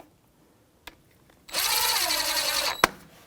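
A power tool, likely an impact driver or drill, snugs a 14 mm brake caliper bolt on a 2007-2017 Jeep Patriot 2.4L during a front brake job. One loud, steady whirring burst lasts about a second, with a sharp click just after.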